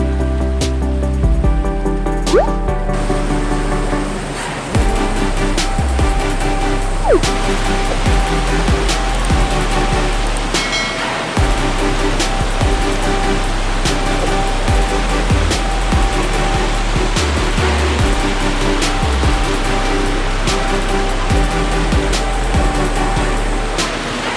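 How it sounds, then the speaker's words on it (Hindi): A waterfall on the trekking path to Kotla near Tosh village in Himachal Pradesh's Parvati Valley, a loud steady roar of rushing water throughout with a few faint clicks and no talk. "हम पहुँचे कोटला के रास्ते में पड़ने वाले इस जॉ ड्रॉपिंग वाटरफॉल पर।"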